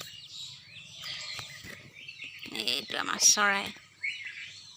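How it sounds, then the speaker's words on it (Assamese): A small bird chirps in short, bright tweets close to the microphone, while a person talks softly nearby. "চৰাইটোক যাব কৈ আছোঁ, চৰাইটোহে নাযায়।"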